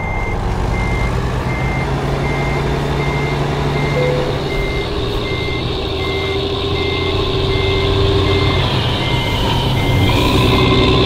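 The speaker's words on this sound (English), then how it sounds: "I'm gonna back this thing up." A truck in American Truck Simulator reverses with an evenly spaced reversing beep sounding about twice a second above a steady diesel engine drone, joined by a brief air-brake hiss near the end.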